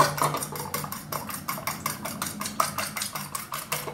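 A fork scrapes and mashes sandwich filling in a dish, giving a steady run of close, rapid clinks and scrapes with no talking.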